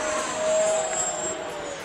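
An FMS Futura 80mm v3 RC jet tumbling overhead, its electric ducted fan a steady high-pitched whine that shifts slightly in pitch as it turns, fairly loud and continuous with no talk.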